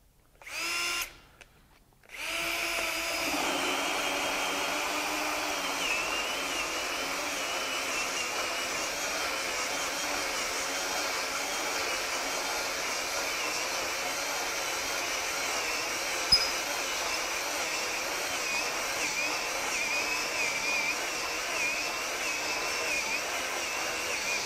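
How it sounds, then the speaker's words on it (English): A Ridgid R96021 drill driving a 2-inch hole saw through a standard 2x4 gives a loud, steady motor whine after a short start-stop burst, holding a constant high drone close by with a single small knock partway through. "put a 2-inch hole saw in here and put a piece of 2x4 in here and just see how well it does"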